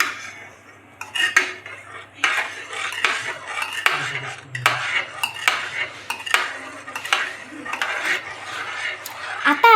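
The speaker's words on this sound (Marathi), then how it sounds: "आता परत एकदा हलवून घ्यायचं." A metal spoon stirs a pot of boiled water, clinking and scraping against the sides in a steady run of sharp strokes, close and fairly loud, with a low hum underneath.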